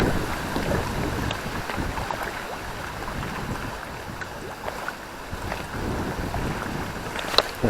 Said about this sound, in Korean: 근데 바람 엄청납니다.